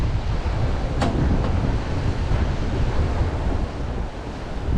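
Strong wind buffets the microphone on a pier at night during crabbing at Captree State Park, a steady, roaring blast of low rumble and hiss with surf-like washing underneath.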